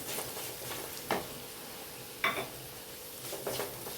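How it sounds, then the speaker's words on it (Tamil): Sambar powder and chili powder fry in oil over a low flame while being stirred for a quick gravy. There is a steady soft sizzle with a few sharp scraping strokes of the spoon against the pan. "இது இந்த எண்ணெயிலே நல்லா ஃப்ரை பண்ணுங்கள்."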